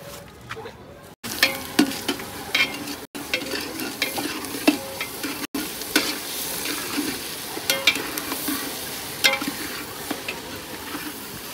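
Onion poli cooking hot on a griddle for breakfast beside a bus on a family trip, a steady sizzle with frequent scraping and stirring clatters, close and fairly loud, broken by a few brief cuts.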